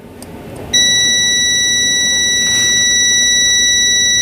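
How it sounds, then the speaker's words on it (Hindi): A multimeter in buzzer continuity mode testing a mobile phone coil gives a loud, steady high-pitched beep that starts abruptly and holds continuously, close up with no talking. "देखिए चेक किए, यहाँ पे बीप आ रहा है"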